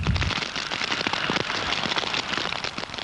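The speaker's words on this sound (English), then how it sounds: "The freezing rain poured down again all night long." Freezing rain pouring down during an ice storm, a dense, continuous patter and crackle of drops hitting surfaces, loud and steady throughout with no voices.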